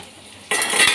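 Spinach stir-frying in a home kitchen pan: about half a second of quiet, then a sudden burst of sizzling with scraping, clinking utensil noise, close and fairly loud, with no voices.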